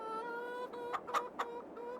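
Chickens cluck inside a farm coop in the Farming Simulator 22 game, several short, sharp clucks over a steady tonal background hum.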